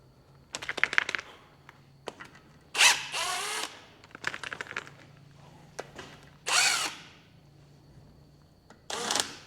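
On a Toyota Hilux wheel hub, a power tool spins the nuts off in a series of short bursts of whirring and rattling, separated by quiet pauses, with no talking.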